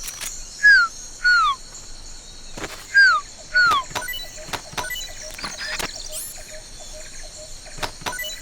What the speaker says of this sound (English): The quetzal sounds like this.